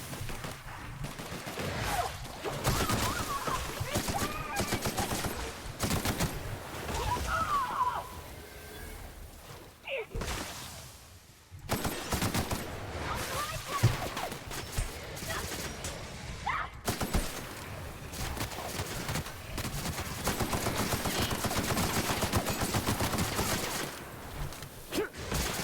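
Sustained gunfire in The Outer Worlds, a sci-fi shooter, aimed at the player, with dense volleys of shots and impacts running almost continuously under a busy game mix, pausing briefly near the midpoint.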